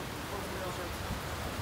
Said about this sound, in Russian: Подожди, сейчас поснимай дождь.